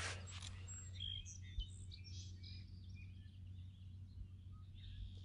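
Song sparrow singing from overhead wires at an arboretum, a run of clear, bright chirps and trills near the start, then softer scattered notes over a low hum.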